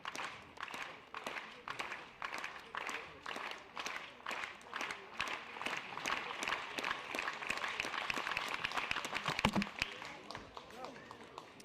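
Rhythmic clapping from a stadium crowd at an international athletics jumping meeting in Athens, steady and sustained for about eleven seconds, with a commentator talking over it.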